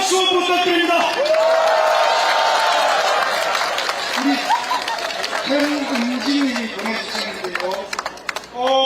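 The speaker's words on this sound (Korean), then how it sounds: "다시 한번 큰 박수 부탁드립니다." A crowd at an outdoor presidential election rally in Changwon claps, cheers and chatters. Dense, loud applause in the first seconds thins into scattered claps and crowd noise, with a voice over a PA speaking through it.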